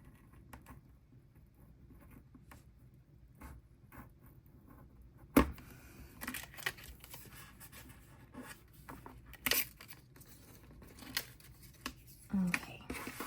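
Quiet scratchy cutting on paper with a gyro cutter, faint at first, then a run of louder irregular snips and scrapes close by.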